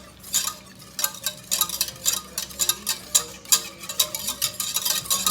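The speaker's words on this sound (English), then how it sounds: "I'm going to whisk it up" A whisk beats milk and soul seasoning in a pot of tomato soup, giving a quick, steady run of close metallic scrapes and clinks, with no one speaking.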